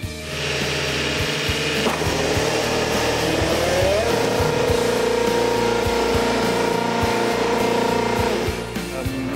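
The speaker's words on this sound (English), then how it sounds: "that's the first new Lotus Cosworth that's fired up for 27 years" A new Lotus Cosworth Formula 1 engine fires up in a workshop: a loud, rough idle with rising tones and intermittent sharp clicks and pops, held steady for several seconds before fading slightly at the end.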